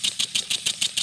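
A small homemade steam engine chuffs in a fast, steady rhythm of hissing puffs, about seven beats per second, running alone and fairly close.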